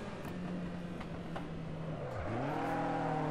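A Toyota Corolla AE86 in the racing game Assetto Corsa drones along under steady engine load, its pitch dipping as it shifts gear and then climbing again, with no turbo.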